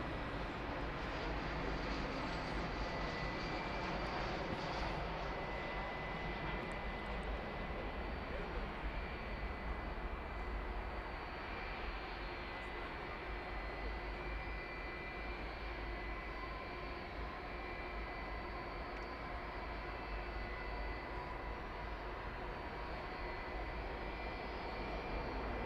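A passenger jet arriving from Las Vegas at Dallas/Fort Worth Airport at night, its engine roar a steady, broad rumble that holds loud for the whole stretch without breaks.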